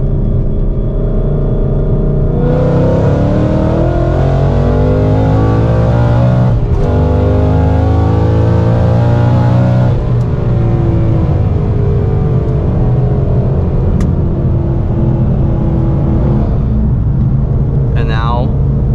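A Whipple-supercharged S550 Mustang GT accelerates hard up a highway entry ramp from cabin, engine drone rising through the gears with supercharger whine and a shift break, loud and continuous.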